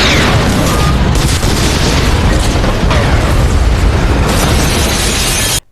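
A huge explosion from the film Paycheck, a continuous roaring blast with rumbling debris that stays loud and dense for nearly six seconds before cutting off abruptly.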